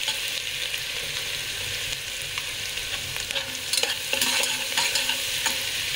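Ginger, garlic and green chili paste sizzles and fries in a pan with peanuts, a steady hiss of hot oil broken by the scrape and tap of stirring, louder and busier toward the end; no one speaks.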